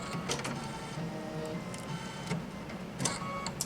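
An embroidery machine running its auto-threading cycle, a steady mechanical whir with small clicks and ticks up close, ending in a couple of sharper clicks.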